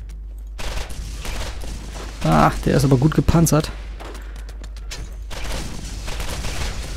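Gunfire in the shooter game Borderlands, sharp repeated shots spread across the clip against a steady game background, with someone talking briefly over them in the middle.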